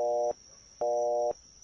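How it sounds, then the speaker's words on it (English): A phone line gives two identical short repeated tones with even gaps, like a busy signal after redialing, clear and close. "I'll just hit the redial button on my phone."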